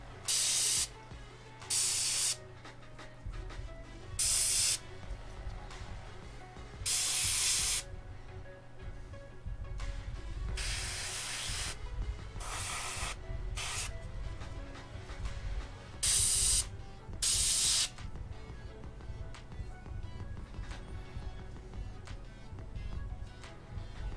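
Spray paint bursts onto a WizKids Beholder miniature, aimed at the base of its eye tendrils: about eight short, loud hissing blasts of roughly a second each, separated by pauses over a low steady room hum.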